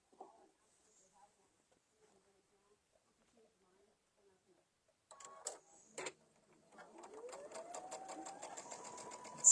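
Home sewing machine stitching plaid and strawberry-print fabric for a summer table runner, its rapid mechanical whir starting in short bursts and then running steadily and close, with a few quiet handling sounds before it.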